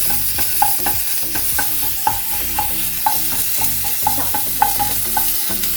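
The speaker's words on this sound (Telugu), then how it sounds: "1 టేబుల్ స్పూన్ ఆఫ్ అల్లం వెల్లుల్లి పేస్ట్ వేసుకొని మనము పచ్చివాసన పోయేంత వరకు ఫ్రై చేసుకోవాలండి" Ginger garlic paste sizzles steadily in a hot pan while a spoon scrapes and stirs in regular sharp clicks, loud and close with no talking.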